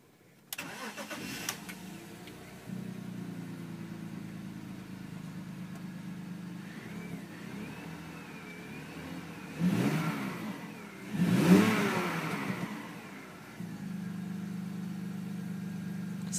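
A 2004 BMW 320i E46 with about 50,000 miles starts up and settles into a steady idle, then revs twice in quick bursts before dropping back to idle, heard close through an open door.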